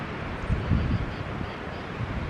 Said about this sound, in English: Kind of windy out, isn't it?